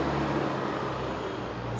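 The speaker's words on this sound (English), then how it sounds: "some tour buses coming" Tour buses drive along busy Monkey Forest Road in Ubud, a steady low engine rumble with passing traffic noise, close and continuous without voices.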